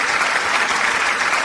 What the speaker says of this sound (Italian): Facciamo un forte applauso a Francesco